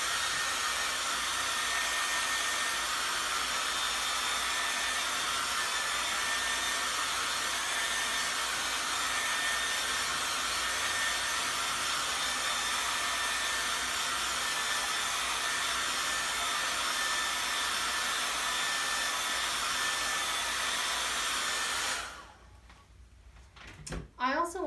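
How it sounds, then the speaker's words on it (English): A hair dryer blows on wet paint on an ocean-themed painting, producing a loud, steady, close whooshing roar for about twenty seconds before it switches off, followed by a brief clunk. "we need to blow this dry because these fish don't have any color"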